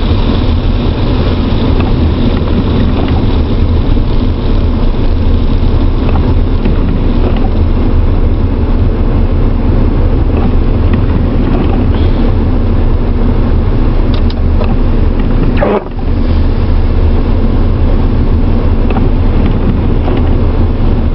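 A four-wheel-drive car drives along a snowy road, its engine and tyre rumble a loud, steady drone inside the cabin with heavy low-end noise that stays almost unbroken throughout, with no talking.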